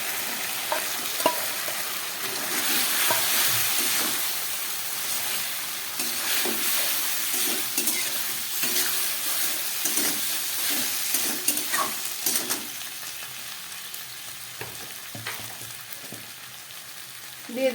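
Fried cauliflower is stirred into a curry in a pan, with steady close sizzling and repeated scraping, clinking stirs throughout, no speech.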